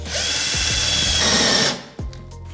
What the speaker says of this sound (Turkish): tam karşısına denk gelecek şekilde buradan deliyorum